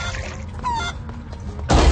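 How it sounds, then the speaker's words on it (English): A chicken in the cartoon game Ed Edd n Eddy: The Mis-Edventures gives a few quick clucks and honk-like calls, close and fairly loud, ending with a sudden louder burst of game sound. "Oh, a chicken! I love chickens, Eddy."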